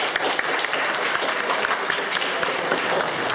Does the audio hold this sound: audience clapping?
yes